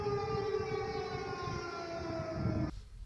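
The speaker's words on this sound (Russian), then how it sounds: "Пугая жителей, проверяют тревожную сирену." An air raid warning siren is tested in Kyiv, a steady wailing civil defense tone with layered harmonics, sustained alone for nearly three seconds before cutting off abruptly.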